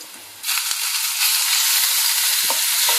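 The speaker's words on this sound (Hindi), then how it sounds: "अब मैं इसमें मेथी दाना और ये जीरा डाल के इसको थोड़ा सा भूनती हूँ" Onion frying in hot oil with fenugreek seeds and cumin added, a loud steady sizzle that bursts in and keeps hissing close up, with occasional small crackles.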